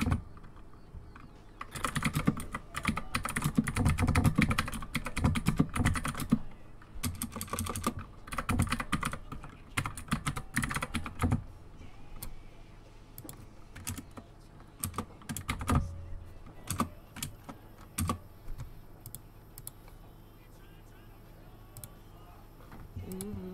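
Typing on a computer keyboard, with irregular bursts of close clicky keystrokes. It is busiest at the start and thins to scattered taps later, and no voice is heard.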